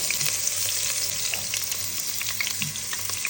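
Chopped small onions fry in hot oil in a pan, making a constant close sizzle dotted with light crackles and faint stirring, with no one speaking.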